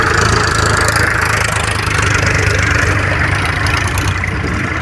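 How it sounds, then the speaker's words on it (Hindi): A tractor engine runs steadily while digging outdoors, a loud, close, continuous rumbling drone with a knocking low end and no speech over it. "ट्रैक्टर लगा हुआ है खोदने के लिए"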